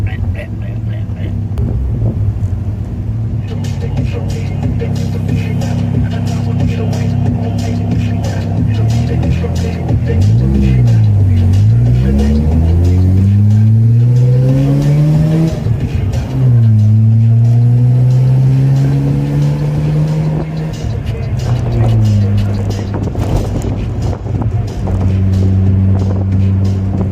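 Engine of a 110-horsepower Mazda RX7 floored on a highway, loud and steady throughout, its pitch repeatedly climbing and dropping through gear changes, with a voice speaking over it.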